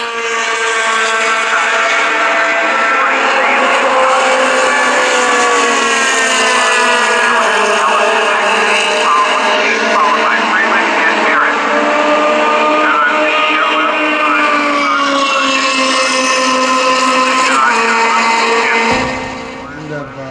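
A vintage Group 9 race car at Indianapolis laps at full speed, its engine holding a loud, sustained high-revving drone with rising and falling pitch through gear changes before easing off near the end.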